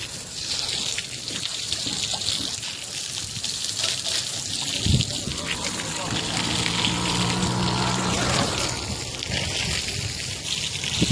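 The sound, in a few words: pumping water out of a flooded chamber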